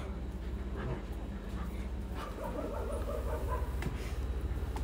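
A dog whimpers and yips over steady background noise, with short repeated calls rather than loud barking, heard close by in a street setting.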